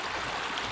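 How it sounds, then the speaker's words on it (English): Creek water running over rocks on the Borrego Palm Canyon Trail in Anza-Borrego Desert State Park, a steady broadband rush and gurgle heard close and continuous, with no voices. "it looks like I've got to cross the creek here"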